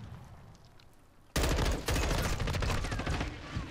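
Automatic fire from the Ronin gun in Call of Duty: Modern Warfare II erupts suddenly after a quiet stretch, a loud rapid stream of shots that keeps going to the end.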